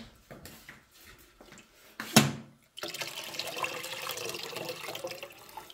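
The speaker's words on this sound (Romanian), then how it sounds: "Hai să mai pun un pic de apă, că e puțin." Water splashes into a pot after a few clinks and a sharp knock, then pours steadily for several seconds, close and fairly quiet.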